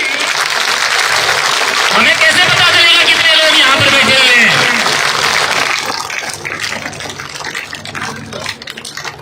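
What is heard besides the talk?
crowd applause at rally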